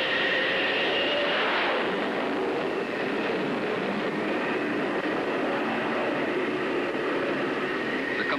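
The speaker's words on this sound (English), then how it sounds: "then to fire the catapult." A Douglas A-3 bomber launched by catapult from an aircraft carrier deck, a loud sustained roar of jet engines and catapult rush that holds steady throughout.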